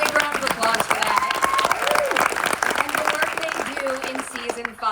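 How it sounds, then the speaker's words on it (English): Audience applause at a Cobra Kai season 5 Emmy event, a full crowd clapping and cheering continuously with some voices and whoops mixed in. "Big round of applause for that."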